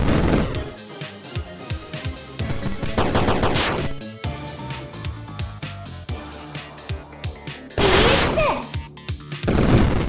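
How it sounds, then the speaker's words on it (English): Rapid gunfire in a FNAF beat 'em up video game, dense bursts of shots and impacts mixed with game music and effects, loud and continuous across the stretch with heavier blasts near the end. "You're shooting at me?"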